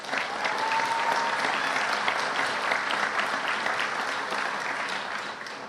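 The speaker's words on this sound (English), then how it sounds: "Let's give her a round of applause." An audience at a Louisville Metro Police Department ceremony gives a sustained round of applause, a dense, even wash of many hands clapping in a large room that holds steady for several seconds before easing slightly.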